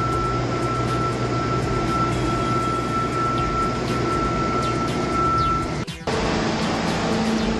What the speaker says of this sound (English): now the guys are blowing off all the excess sand in preparation for the first coat of epoxy